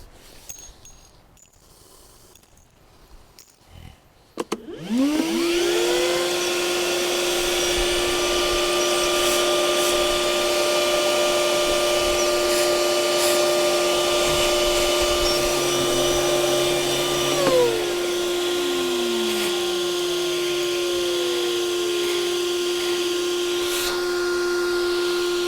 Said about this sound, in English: I'm going to put some nails down and see which one will actually suck the nails up.